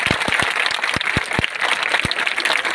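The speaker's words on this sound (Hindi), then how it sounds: "जोरदार तालियां बजाएं डबल से" Audience applause at a disaster-management school event, a dense, continuous patter of many hands clapping with a few sharp louder claps standing out, steady and fairly loud throughout.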